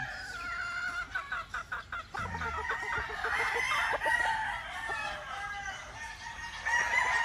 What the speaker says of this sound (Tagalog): Ito naman po ang ating Stuart yellow-legged hatch.